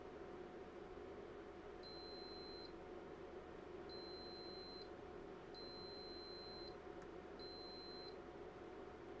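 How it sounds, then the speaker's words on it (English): Four separate two-tone electronic beeps from a Macintosh IIci logic board under test, each under a second and evenly spaced against a steady background hum and hiss. "let's check our beeps."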